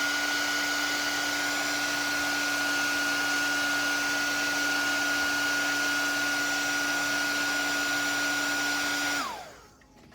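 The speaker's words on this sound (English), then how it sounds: "I'm going to hit the sun down here with just a little bit of hair dryer" A hair dryer drying paint blows with a steady whine and rushing air, then switches off near the end and the noise drops away.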